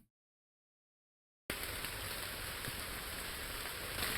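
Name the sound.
heavy rain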